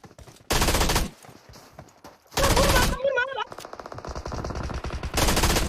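Automatic gunfire in the mobile battle royale game PUBG Mobile: several loud, close bursts of rapid shots separated by short pauses, with a voice speaking briefly between them.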